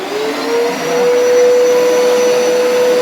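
A Hoover carpet cleaner runs loudly and steadily, a constant motor whine with a rushing airflow hiss, close and alone.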